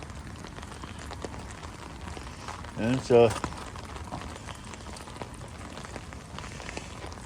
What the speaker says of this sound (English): It's nice to see the rain come back.